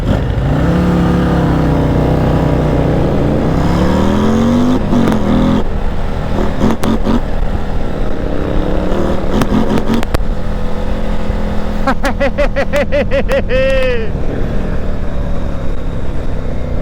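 A 2026 Harley-Davidson Street Glide 135 motorcycle engine roars loudly and steadily throughout a test ride, rising and falling with revs and joined by several sharp bursts and a brief whine near the end.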